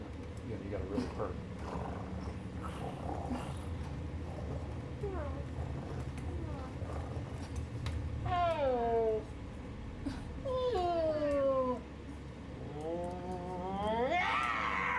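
A man imitates a cat purring and meowing with his voice, drawn-out sliding vocal tones repeated several times over continuous background noise, fairly close and moderately loud, with other people talking.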